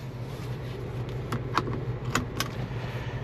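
A seatbelt buckling inside a 2026 Chevrolet Colorado, a few quick metallic clinks and a latch snap close by over a low cabin rumble.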